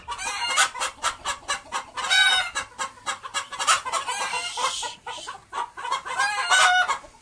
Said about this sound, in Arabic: عدد الفراخ قليل بالنسبة لعدد الذكور في البيوت زي ما انتوا سامعين،